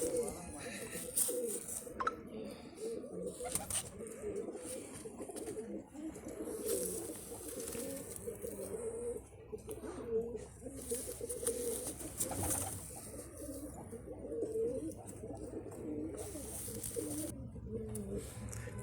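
Pigeons coo repeatedly and close by, with soft overlapping calls throughout and voices talking intermittently in the background.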